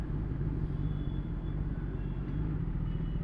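Steady low rumble of road traffic around a Kawasaki ZX10R superbike in slow, congested traffic, a continuous dull engine and tyre drone heard from the rider's position with no voices.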